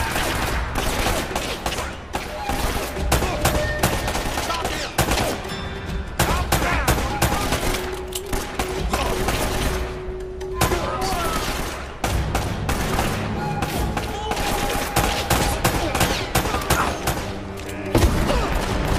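Dense, sustained gunfire from a third-person shooter game, Uncharted: Drake's Fortune, with rapid bursts and heavy booms layered over game music and effects, loud and continuous throughout.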